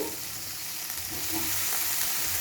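Chili powder is stirred into a frying curry of egg and potato, giving a dense, close sizzle under a steady hiss, with soft scraping and stirring and no talking.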